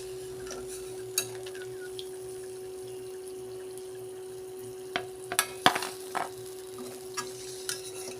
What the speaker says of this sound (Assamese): এতিয়া মই তেলৰ পৰা কাঢ়ি ল'ম।